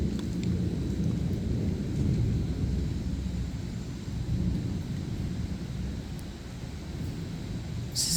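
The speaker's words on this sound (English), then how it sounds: "we're just gonna enjoy this beautiful storm" Steady broadband rumble of a thunderstorm with rain, a dense low roar that continues unbroken throughout, with no voices.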